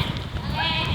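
Sheep bleat out on a green pasture as they're called in, their calls blending with steady outdoor noise while a person talks nearby and imitates the bleats.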